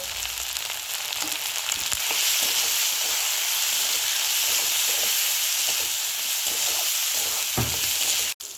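Spice paste with turmeric and green chilli paste fries hard in oil for a Bengali bhangal fish oil curry, a loud, steady, close sizzle that runs almost unbroken before a brief knock near the end.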